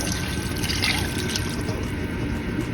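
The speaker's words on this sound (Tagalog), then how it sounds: "Patatas, lagay na natin ito yung nilagyan ko ng tubig." Soaked potatoes and their water go into a cooking pot of chicken kaldereta, giving a steady watery pour and trickle with a hissing, bubbling wash throughout, close and fairly loud.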